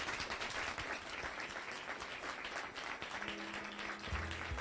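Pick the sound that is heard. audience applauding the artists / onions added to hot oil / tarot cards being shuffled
audience applauding the artists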